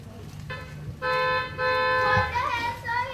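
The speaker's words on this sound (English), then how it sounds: "He's honking again." A car horn honks in long sustained blasts, loud and close, two held toots with a brief break between, over background voices and street noise.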